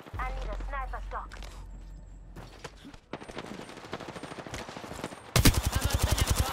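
Rapid automatic gunfire bursts in the video game Apex Legends, loud and close, with scattered shots earlier and a dense rattling volley near the end, amid game sounds.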